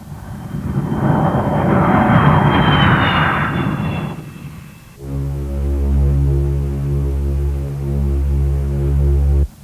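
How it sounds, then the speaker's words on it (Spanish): Military airplanes flying low over Port-au-Prince, a loud rushing engine roar for about four seconds that gives way to a steady droning hum with a musical tone. "Los aviones volaban rasantes sobre Puerto Príncipe, estremeciendo edificios y provocando pánico"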